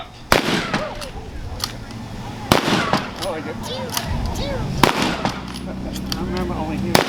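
Rifle gunshots ring out at an ammunition demonstration, three loud, sharp cracks spaced a couple of seconds apart. People talk and move around in between.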